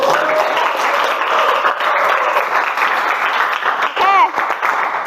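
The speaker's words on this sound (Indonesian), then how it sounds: "Tepuk tangan dulu." A classroom of students clapping for a classmate, a brief burst of scattered applause under lively voices and chatter.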